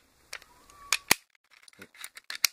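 Slide of a Smith & Wesson M&P Shield9 9mm pistol pulled back during reassembly, a few sharp metallic clicks and snaps up close, with quiet handling noises between them.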